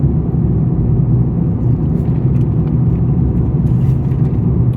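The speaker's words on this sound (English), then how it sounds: "cruising along here at 50 miles an hour" Steady car engine and tire rumble from inside a vehicle cruising at about 50 mph on an open, empty rural highway between Fort Davis and Marfa, Texas; a continuous, loud low drone with no talk.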